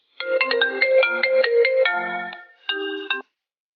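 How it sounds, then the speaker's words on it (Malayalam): A remix of the iPhone ringtone plays back through a phone app, a bright melodic synth phrase of quick stepped notes, clear and close, pausing briefly before a short final burst, with no talking. "ഈ സോങ് നമ്മുടെ ഐഫോണിൻ്റെ റിംഗ് ടൂണിൻ്റെ റീമിക്സ് ആണ്."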